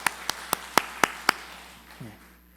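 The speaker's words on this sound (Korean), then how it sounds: "하나님께 영광의 박수 올려드립니다" A church congregation gives a short burst of applause during a Sunday worship service, heard as about six sharp, evenly spaced claps that fade into quiet room tone, followed by a brief low voice.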